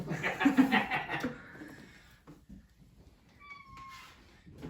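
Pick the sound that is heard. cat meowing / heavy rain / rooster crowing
cat meowing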